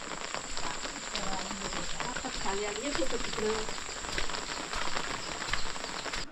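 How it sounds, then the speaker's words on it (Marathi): Rain falls at a Konkan village house in the countryside, a steady broadband patter with scattered drop ticks that runs throughout at moderate loudness, while faint voices murmur in the background. "पाऊस आला"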